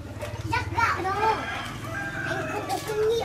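Chickens at a rural Vietnamese home, with clucking and a crow-like call rising over people talking nearby.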